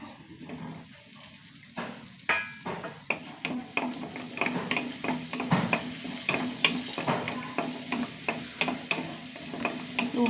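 Six small onions and a tomato sauté in a little oil, a soft sizzle under repeated scraping, tapping strokes of a spoon against the pan that come in a loose, steady rhythm.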